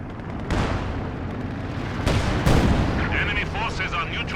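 An artillery barrage strikes a Raketenwerfer position in Company of Heroes 2. Several heavy booming shell impacts land in quick succession over continuous battlefield rumble.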